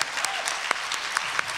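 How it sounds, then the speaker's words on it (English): An audience claps steadily and fairly close at a League of Women Voters candidates forum for the CUSD Board of Trustees in Butte, with a few sharper individual claps standing out from the dense patter throughout. "The audience may now applaud."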